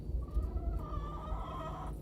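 Chickens cluck softly in a steady murmur, with a drawn-out call or two over low background rumble, no talking. Outdoors in early spring near snow and ice.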